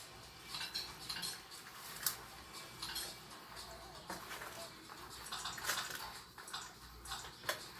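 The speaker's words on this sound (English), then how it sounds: "give it a good stir" Spaghetti salad being stirred in a bowl with salad supreme seasoning, giving a steady run of soft clinks and scraping taps of a utensil against the bowl, close and fairly quiet, with no voice over it.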